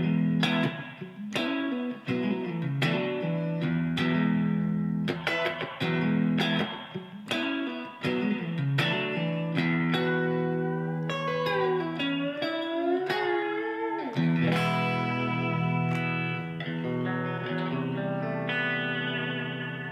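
An electric guitar through a Blackstar ID:Core V3 amp on an American clean setting with spring reverb plays clean chords and melodic lines, with a washy reverb tail and a shimmering effect, sustained and fairly loud.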